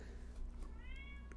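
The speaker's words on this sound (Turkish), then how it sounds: "Ya kapıları kapattım mı çıldırıyor bu kediler." A house cat meows once, short and clear near the end, against a quiet indoor background with a faint low hum.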